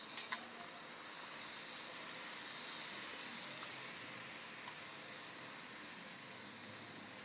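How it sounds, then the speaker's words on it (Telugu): Brinjal pieces sizzle in an onion and turmeric tempering in a pan, a soft continuous hiss that fades slightly over time; no talking. "మనం ముందుగా కట్ చేసి ఉంచుకున్న వంకాయ ముక్కల్ని ఇప్పుడు మనం ఈ ఆనియన్స్లోకి వేసుకోవాలి"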